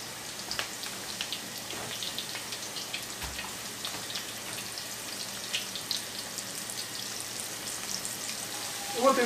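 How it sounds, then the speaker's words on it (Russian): Steady sizzling and crackling of turkey cutlets frying in a pan, a constant hiss with scattered pops, no talking. "Теперь жарим до румяной корочки."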